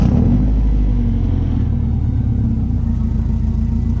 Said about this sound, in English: That's the OG Gretti exhaust.